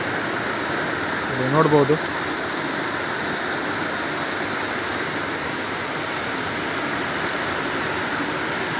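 Very heavy rain pours down with strong wind, a dense, loud, unbroken roar of water throughout, with a brief spoken phrase early on.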